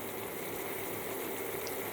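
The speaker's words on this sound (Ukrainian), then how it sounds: "Хай воно прокипіть буквально 2 хвилинки." Lenten borscht simmers in a pot, giving a steady, soft bubbling hiss that holds evenly for the whole moment with no voices.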